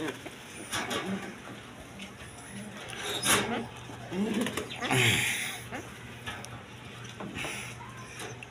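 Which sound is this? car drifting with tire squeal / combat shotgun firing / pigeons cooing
pigeons cooing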